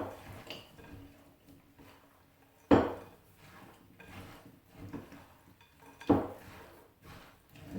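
Cheesy potato casserole ingredients are mixed in a bowl with soft, quiet scraping strokes. Two sharper, louder clunks of the utensil against the bowl stand out a few seconds apart.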